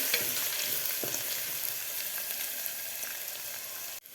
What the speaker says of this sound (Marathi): व्यवस्थित आपल्याला हे लसूण आणि अद्रक फ्राय करून घ्यायचे आहे